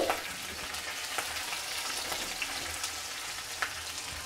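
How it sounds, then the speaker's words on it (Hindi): Chopped green chillies fry in oil over a low flame, making a continuous soft sizzle scattered with small crackles and pops close to the pan. "सबसे पहले कटी हुई हरी मिर्च डालते हैं"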